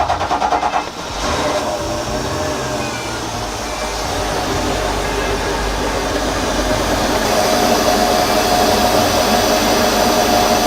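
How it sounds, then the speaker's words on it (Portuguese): A boat engine is started with the ignition key held: a brief rattling crank, then the motor catches and settles into a loud, steady running drone that continues to the end. "Vamos lá, dá a partida e segura."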